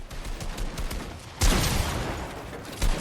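Gunfire in the video game Fortnite crackles in quick bursts, with a loud sharp blast about halfway through and another near the end.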